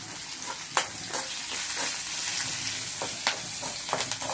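Green chillies and curry leaves sauté in hot oil in a pan while being stirred, a steady soft sizzle broken by occasional sharp crackles and pops, close by.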